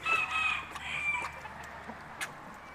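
Chickens cluck near a duck in a farmyard pen, a few short, fairly close calls at the start, then quieter scattered clucks against a soft outdoor background.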